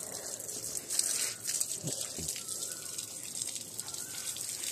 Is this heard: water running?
yes